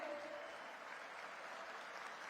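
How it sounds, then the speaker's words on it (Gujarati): Sustained applause from a large audience at a public gathering welcoming dignitaries, including the Gujarat Legislative Assembly speaker, a dense even wash of clapping heard at low level. "સાથે તાળીઓના નાદ સાથે સ્વાગત કરીએ"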